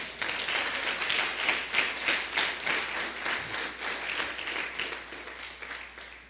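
Church congregation applauding during a sermon, a steady wash of many clapping hands that swells slightly in rhythmic pulses and fades a little toward the end, with no talking.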